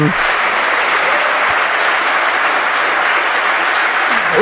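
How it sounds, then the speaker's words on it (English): Dense, steady applause from a large audience at a hacker security conference, loud and continuous from start to finish with no pause. "they're applauding the German magazine IX"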